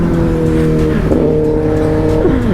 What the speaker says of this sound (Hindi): सुपर बाइक चल रही है हमारे पीछे, ZX 10R